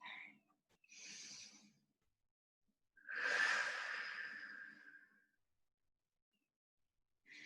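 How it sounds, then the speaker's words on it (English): During a stretching class for the feet and hands, a person takes deep breaths, each one a soft, airy inhale or exhale, heard close and quiet with silent pauses between them. "Take another deep breath."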